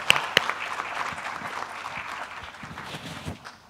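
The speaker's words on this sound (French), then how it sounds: "je vous demande à l'assistance d'applaudir énormément toute l'équipe ici, Mustafa Hida." Audience at a medical symposium on infant functional disorders applauds the team, a steady, dense clapping from a hall full of people with a couple of louder claps near the start, fading slightly toward the end.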